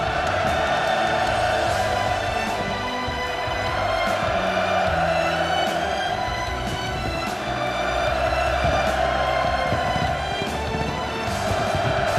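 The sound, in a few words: crowd shouting hurrahs and cheering at inauguration ceremony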